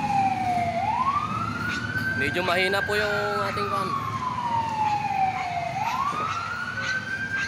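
A fire truck siren wails in long rising and falling sweeps as firefighters arrive at a blaze, steady and moderately distant, with a person talking over it.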